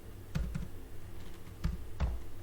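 Typing on a computer keyboard, a few sparse, close key clicks in small clusters over a quiet room hum.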